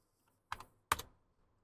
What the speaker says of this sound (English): I could just type in the number I want here.